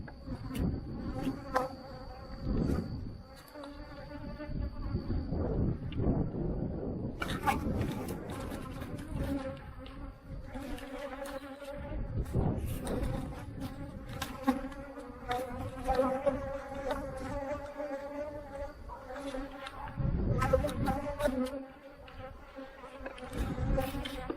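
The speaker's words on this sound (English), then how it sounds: "The guard bees are generally at the front of the hive" Dense swarm of honey bees buzzing steadily around the front of beehives, a continuous close, loud drone with individual bees flying near and past, layered throughout with no talking.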